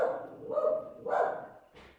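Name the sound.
dogs barking outside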